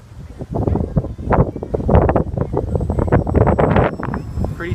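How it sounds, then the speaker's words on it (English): Gusty wind buffets the microphone in uneven rumbling bursts, rising and falling for several seconds. "It's pretty windy right now."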